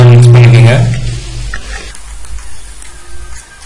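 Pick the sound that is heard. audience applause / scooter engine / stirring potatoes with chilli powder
stirring potatoes with chilli powder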